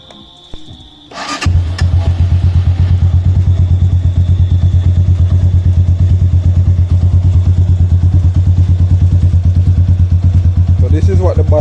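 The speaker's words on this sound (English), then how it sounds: "This is what the bike sounds like with the stop muffler cut in half basically, or cut down." A 2019 Supra 250 Racing Edition motorcycle idles with its exhaust muffler cut down, starting after a brief clatter and settling into a loud, steady, close-up throb with a rapid, even pulse.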